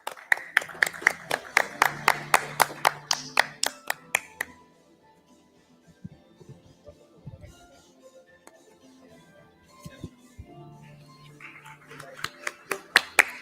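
A conference audience claps for a doctor's medical presentation, a steady patter of close handclaps that fades into a quiet stretch of murmuring voices, then builds again near the end.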